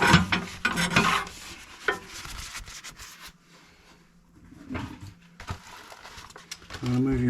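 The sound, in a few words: scrubbing new hunter bricks with a mole brush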